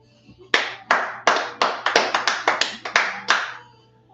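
A single person claps about a dozen times at a steady, fairly quick pace, each clap sharp and close, with a faint background hum and no talking.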